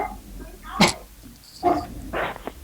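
Dog barking faintly over a caller's phone line during a public county meeting, a few short yips and barks spaced out across a couple of seconds amid room murmur.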